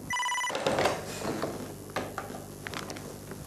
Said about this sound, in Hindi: क्या सुनंदा का फोन है?